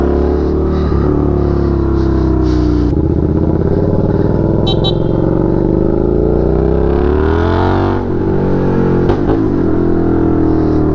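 A Suzuki SV650 motorcycle rides through heavy Manila expressway traffic, its engine humming loud and steady throughout with pitch rising and falling as it accelerates and eases off, and wind noise rushing underneath.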